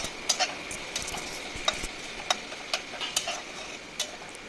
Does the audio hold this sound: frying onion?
yes